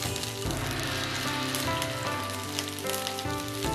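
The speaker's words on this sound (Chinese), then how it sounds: "砂锅中加入少许的油，下入几粒花椒炒香，倒入洋葱铺平，" Onion and seafood mushrooms frying in a little oil with a few Sichuan peppercorns in a clay pot, a dense steady close-up crackling sizzle with occasional stirring bumps.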